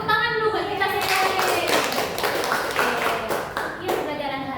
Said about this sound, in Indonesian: Tepuk tangan dulu buat kita sekali